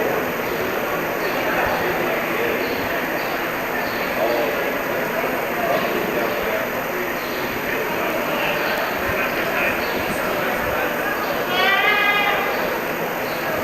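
Dairy goats bleating at a show ring, with a short burst of bleats near the end standing out over a steady wash of crowd chatter and announcer talk.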